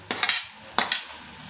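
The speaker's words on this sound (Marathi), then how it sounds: "आपण मस्त तेलावर परतवून घेतोय" Chillies, onion, ginger and garlic sautéing in hot oil, with two short bursts of stirring and sizzling scrapes in the pan, close and alone.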